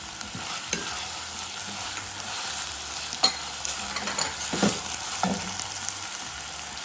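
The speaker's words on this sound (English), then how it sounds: "Green chilies also need to be fried." Green chilies and mint fry gently in oil for tomato rice, a steady soft sizzle with occasional stirring clinks and scrapes up close.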